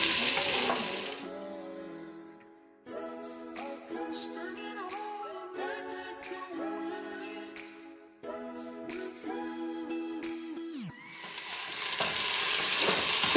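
Sliced onions sizzle and fry steadily in half a cup of hot oil, with occasional stirring and faint metallic clinks against the pan, continuous and close throughout.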